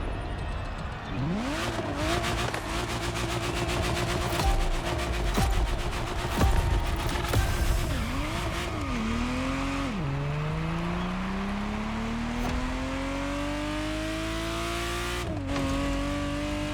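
A Ferrari Testarossa in the racing game The Crew Motorfest, its engine revving hard through repeated gear changes with rising and dropping pitch, then a long steady climb, loud and close with occasional tire noise.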